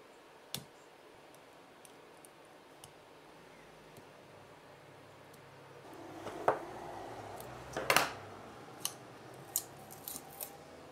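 Cutters snip the nickel strip connections to the BMS on a JBL Partybox 100 battery pack, giving scattered sharp clicks and snips, sparse at first and then clustered, close and quiet over faint background hiss.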